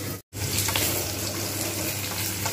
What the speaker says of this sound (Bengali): এটা তেলের মধ্যে জাস্ট আমি এটা ভেজে নেবো।